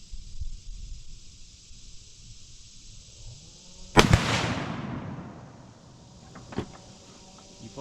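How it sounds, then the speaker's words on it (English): A single loud, sharp report from a hard-kicking rifle at about four seconds, its broadband blast trailing off over a second outdoors, followed later by a fainter distant crack; only one shot stands out, with faint ambient noise around it. "Now it's Tristan's turn with this gun, and he's going to get 4 shots of this thing"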